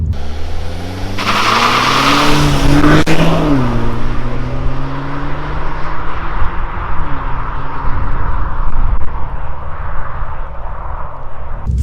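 Engine of a 2021 Mazda 3 2.5L turbo hatchback pulls loudly under acceleration, its tone climbing steadily through the gears with a brief shift dip, steady road roar beneath.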